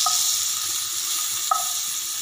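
Onion and capsicum frying in a pan make a continuous bright sizzle close to the microphone, with a spoon stirring and one sharp scrape of metal partway through.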